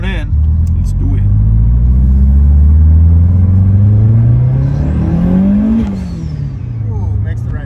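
A Mitsubishi Lancer Evolution or Subaru Impreza STI engine revs hard on gravel, a loud, close, rising rumble that climbs and falls across several seconds, with people talking over it.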